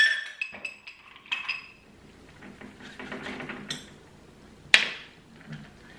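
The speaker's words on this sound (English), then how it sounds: "And then we're going to strain that into our cocktail glass." An amaretto sour made with raw egg is strained into a cocktail glass: scattered ice-and-glass clinks and light clatter, with one sharp, bright clink near the end, close and moderately loud.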